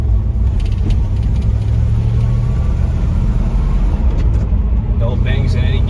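A 1960 Chevrolet Impala rolls through a turn, its engine a steady low rumble from inside the cabin, with light clicks and rattles near the end.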